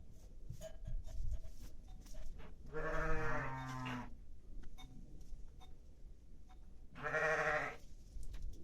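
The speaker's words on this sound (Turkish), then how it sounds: "Koyunlarımız şu an yatıyor dinlemede." Two loud sheep bleats, one near the start and another later, with quiet farmyard background between them and no talking.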